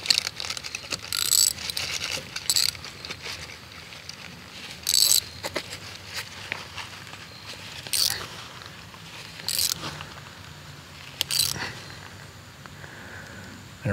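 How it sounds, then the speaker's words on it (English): A ratchet tightens the screw on an electrical conductor clamp during Victorian-era electrical work, giving irregular bursts of sharp mechanical clicks spaced a second or so apart over a low steady background. "I'll go ahead and screw down the clamp and make sure the conductor is at the back end"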